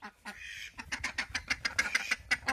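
Domestic ducks quack in rapid, uneven bursts, close by and fairly loud. The calls come one after another without pause, with no voices over them.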